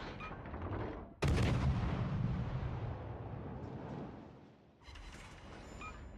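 Naval guns pound an enemy battleship in a warship video game: a sudden loud, booming salvo with a long rumbling tail, preceded and followed by lighter firing and battle noise, with no talk.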